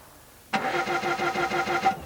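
A car with a Rolls-Royce engine cranks but fails to start, the starter turning over in a rapid, even chugging rhythm for about a second and a half. It is close and clear, with no talking.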